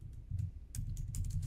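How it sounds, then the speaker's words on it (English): Quick taps on a computer keyboard, a short burst of light clicking keystrokes over a low steady hum, fairly quiet and close, with no talking. "So I'm going to type"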